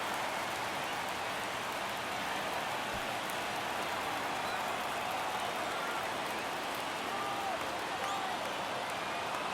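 A stadium crowd in the baseball video game MLB The Show 23 sends up a steady, hissing roar of cheering and applause, filling the whole stretch at an even level with no clear peaks.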